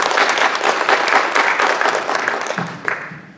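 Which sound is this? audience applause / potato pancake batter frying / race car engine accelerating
audience applause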